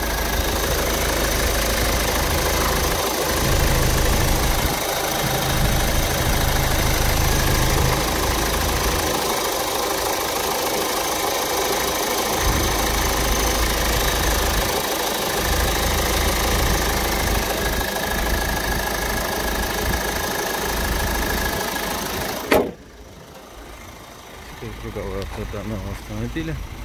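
Kia Sorento with a front-wheel-drive 2-litre diesel engine idling with a steady, rough clatter that runs continuously and then drops away near the end, leaving quieter background.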